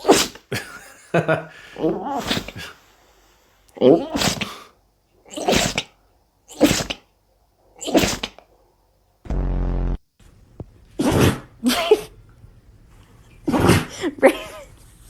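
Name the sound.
sneeze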